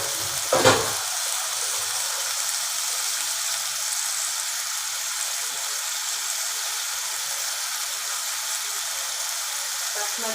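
Rohu fish and potatoes sautéing in a pan give a steady, even sizzle and fry hiss throughout, with a brief stirring clatter near the start.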